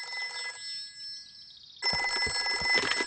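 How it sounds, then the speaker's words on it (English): A cartoon telephone rings, first a faint electronic trill, then after a short pause a loud, close, bright bell ringing with rapid repeated clatter. "I'll ring Granny Pig."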